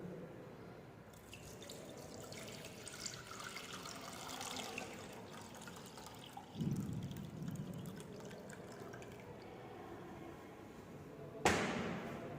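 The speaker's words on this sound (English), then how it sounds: "I'm going to add approximately 1 liter milk" Roughly a liter of milk poured from a container into a saucepan for bechamel sauce, a steady close splashing trickle that runs for several seconds and swells near the end.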